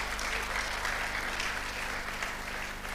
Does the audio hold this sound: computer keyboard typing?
no